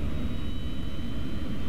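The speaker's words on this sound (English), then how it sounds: "Okay, engine number one has started." The jet engine of a Delta DC-9 airliner in Flight Simulator 2004 running after start-up, a loud steady roar with a thin high whine on top, holding constant throughout.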